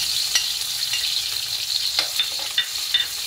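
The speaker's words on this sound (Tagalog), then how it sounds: "Igisa na to ang lamas guys. Ang ahos o bumbay." Garlic and onion sautéing in oil in a pan before bitter gourd is added, a steady close sizzle with scattered crackles and occasional stirring scrapes.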